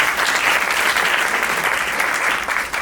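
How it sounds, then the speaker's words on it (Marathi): Loud applause from a talent show audience cheering a stand-up comedy contestant, a dense sustained burst of many hands clapping that carries evenly before tapering slightly at the end. "तर एकदा मुअज्जमसाठी जोरदार टाळ्या."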